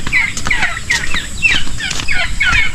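Turkeys gobble in a rapid, warbling series of calls, several birds overlapping close by against a steady background hiss.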